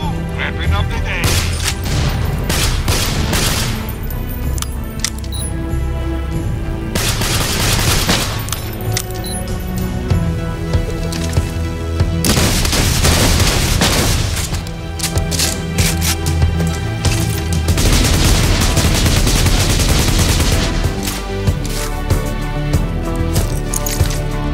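Rapid bursts of gunfire from the video game Borderlands, dense and loud throughout, layered over a steady game soundtrack with sharp repeated shots.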